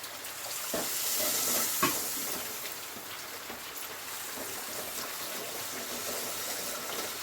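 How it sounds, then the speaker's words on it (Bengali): Spice paste with cumin powder frying in a pan with splashes of water, giving a steady, soft, continuous sizzle with faint stirring scrapes. "অল্প অল্প পানি দিয়ে আমি মশলাটা কষাবো।"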